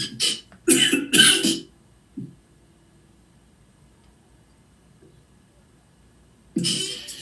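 Several dry, harsh coughs in a quick cluster, a short pause, then a single faint cough, followed by quiet and one more loud cough at the end.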